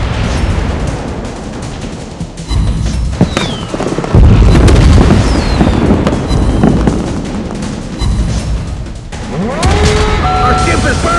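Naval guns fire on the Tier 8 Amatsukaze destroyer in World of Warships Blitz, a loud, dense run of booming shots and blasts over continuous game noise, with a voice speaking at times.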